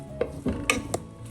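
Utensil clinks and scrapes against a cooking pot while a tomato mixture is stirred for a tuna pepper curry, a few short distinct strokes close up with no talking.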